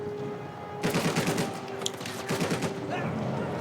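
Enemy gunfire in Uncharted 4, dense rapid bursts of automatic shots in two close volleys separated by a brief lull, loud and near.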